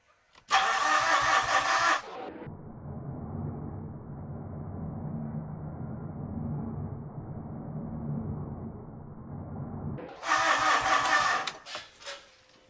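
A Mitsubishi Fuso FG truck's 4P10 diesel engine cranks with a loud, harsh burst, then settles into a steady low idle for several seconds before a second loud cranking burst near the end; no talking.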